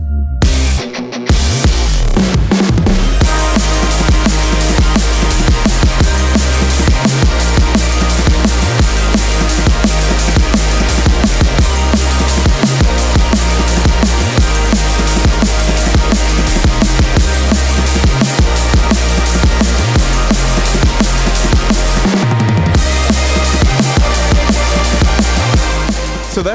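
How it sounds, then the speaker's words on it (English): A rocky drum and bass drop plays as loud, dense music with driving drums and heavy low end. It runs continuously, with only brief dips near the start and midway, and there is no talking. "this is building up to a very like rocky drum and bass drop"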